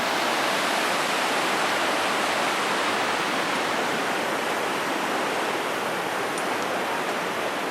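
The Son river in Uttarakhand flows in a dense, constant rushing roar, loud and close, with no talk over it.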